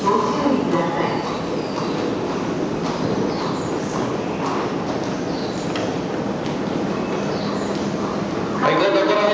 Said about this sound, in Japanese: 回送電車が発車します。